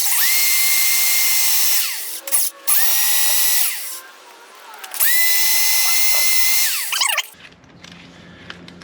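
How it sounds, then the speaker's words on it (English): A power drill bores through hard material on a Range Rover Classic auxiliary light install, whining loudly in two long runs with a brief stop and restart between them, then cutting off into quiet. "They are very difficult to drill through."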